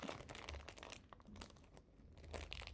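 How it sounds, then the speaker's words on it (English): Crinkly plastic packaging of a Kamen Rider Cross-Z toy is torn and crumpled up close by hand, a run of rustling, crackling bursts with no talking. "So I'm just gonna rip this apart."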